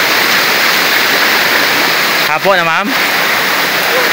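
Morita Falls waterfall in Barangay Marabu, Sipalay City, Negros Occidental, a loud, constant rush of falling water filling the whole clip, with a brief spoken question partway through.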